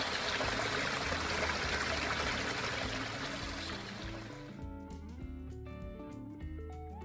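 Stream water rushes through a culvert in a loud, steady wash that eases partway through, leaving a softer trickle with clinking, echoing droplets.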